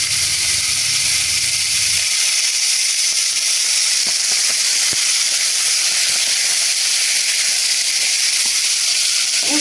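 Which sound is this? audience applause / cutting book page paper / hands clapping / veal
veal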